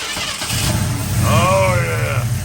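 A 1970 Ford F-100 with a newly installed 600 CFM FST carburetor cranks over, its starter churning briefly before the engine catches into a rising rev, all close by.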